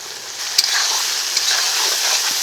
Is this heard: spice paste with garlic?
yes